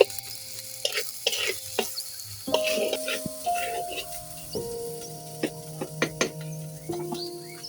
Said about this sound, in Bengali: মশলাগুলো ভালোভাবে মশলার সাথে ভেজে নেব, তাহলে আর কাঁচা গন্ধটা থাকবে না।